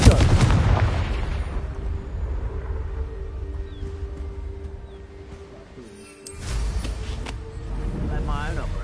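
A booming Confringo blasting-spell explosion in the Hogwarts Legacy video game opens loud and rumbling, decays over several seconds, then a second heavy blast surges near the end, with a voice speaking.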